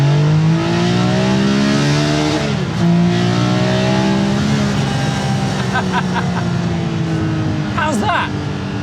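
A Singer DLS Porsche 911 restomod engine revving hard up through second gear, its loud, rising, sharp howl repeatedly climbing in pitch, with a brief lift and then pulling again, close and dominant; a voice speaks briefly over it.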